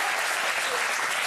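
Dense, steady clapping from a television studio audience fills the whole moment, loud and close with no break.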